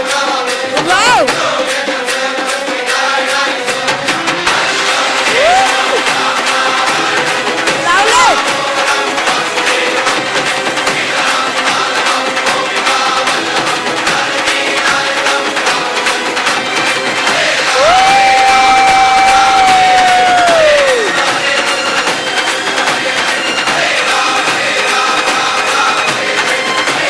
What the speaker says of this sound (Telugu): అందరూ కొంచెం గట్టిగా క్లాప్ చేయాలి ప్లీజ్ రిక్వెస్ట్